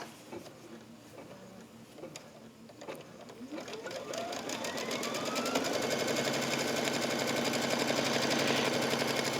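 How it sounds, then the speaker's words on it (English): A computerized sewing machine stitches a long border piece onto a pillow top, its rapid needle ticking starting slowly and then speeding into a steady, close whirring hum as the motor ramps up. "lower the foot and stitch the next step"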